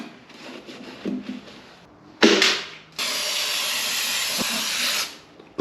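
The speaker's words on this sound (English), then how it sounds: "Got my plastic scraper, it's coming off pretty good." A plastic scraper works old, caked-on gasket material off the engine of a 1988 Honda CRX Si, giving a close scratchy hiss that starts and stops in short bursts, with one long steady stretch of scraping.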